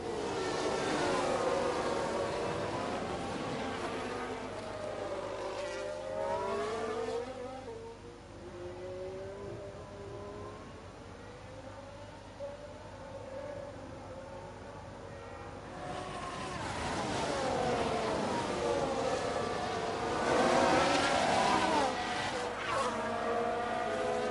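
Formula 1 race cars at the Montreal circuit in the video game F1 Manager 22: high-pitched engine whines that rise and fall as cars pass, loud at the start, fading in the middle, then swelling again toward the end.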